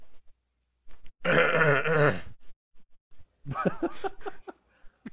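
During a tabletop Shadowrun role-playing session, a person gives a single rough, guttural throat-clearing hack that lasts about a second, followed after a pause by a burst of gruff, voiced grunting noises, all close to the microphone.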